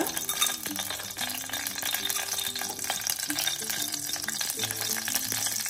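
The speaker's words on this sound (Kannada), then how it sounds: "ಇದು ಮಸಾಲೆಗೆಪ್ಪ ಫ್ರೈ ಮಾಡಬೇಕಲ್ಲ, ಚಕ್ಕೆ, ಲವಂಗ" Cinnamon and cloves frying for masala in a pan for avarekalu rice bath, a steady close sizzle with stirring rattles and occasional clinks throughout.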